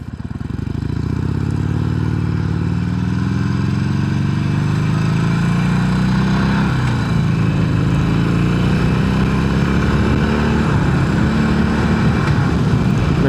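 Motorcycle engine running steadily close by for the whole stretch, its pitch climbing and dropping as the rider shifts, with a brief stumble in the middle when a gear shift is missed before the revs settle again.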